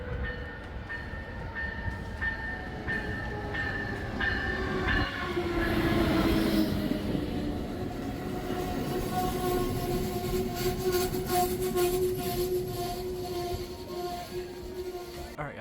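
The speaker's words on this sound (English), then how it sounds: "here's our train" A passenger train rumbles steadily past nearby at a railroad festival in Galesburg, wheels grinding and clacking, with a long horn-like tone rising partway through; loud and continuous.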